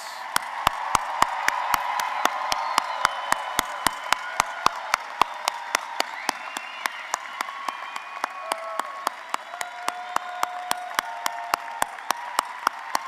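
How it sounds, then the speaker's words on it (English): Applause for agriculture college graduates at a spring commencement ceremony, a continuous patter of clapping from a large crowd with distinct sharp individual claps close by, sustained evenly for a long stretch with faint voices underneath. "Let's give our 2023 Herbert graduates one more round of applause."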